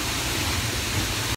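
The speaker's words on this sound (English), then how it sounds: "Look, I'm behind the waterfall." Broadband roar of a waterfall in Iceland heard from behind the falling curtain of water, a dense, steady rush filling the whole clip up close and loud with no letup.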